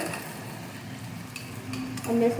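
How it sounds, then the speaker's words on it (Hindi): Spices frying in a pot for a dhaba-style mixed pickle-spice vegetable dish, with a little water added, giving a soft hiss and light scraping from stirring that swells into louder sizzling near the end, with no talk. "थोड़ा सा पानी डाल दें"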